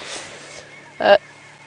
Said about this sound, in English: The go-away birds are calling in a very lackluster manner